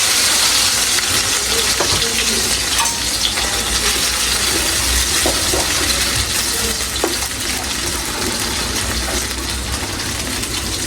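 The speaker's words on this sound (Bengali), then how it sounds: "এরপর এটা আমি এই যে তেলে এভাবে ভেজে ফেলবো।" Cornflour-coated pieces frying in hot oil, a dense steady sizzle and crackle close up with occasional small pops, continuing without pause.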